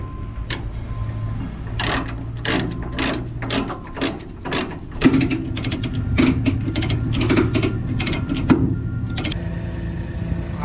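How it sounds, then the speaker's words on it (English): A ratchet binder on a load, taken out of its lock and free spun, gives a long run of rapid, sharp metallic clicks, fairly close. The clicks come in uneven bursts over a low background rumble. "You gotta know how to free spin that ratchet binder."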